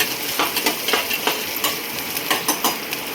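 Ginger and garlic frying in a pan, a loud close sizzle with a quick series of spatula stirs and scrapes against the metal, and no voices.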